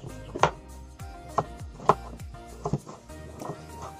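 A knife chops papaya into pieces on a board, giving about half a dozen sharp, evenly spaced thuds, close and distinct.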